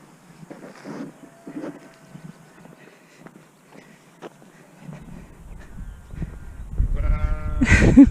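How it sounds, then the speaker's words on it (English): Sheep bleat from a field near the M40 along the Ridgeway in the Chilterns, scattered calls at moderate distance, with rustling footsteps and traffic noise swelling louder toward the end. "Just like really noisy sheep."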